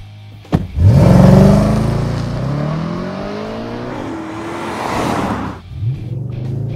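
An Audi RS5 on a race track accelerating hard, its engine roaring up through rising pitch sweeps with a gear change midway, loud and close, then a brief lift and renewed surge at the end.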